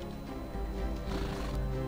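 A horse neighs in the real-time strategy game Battle Realms, a loud whinny with hoof clip-clop over a dense game soundtrack.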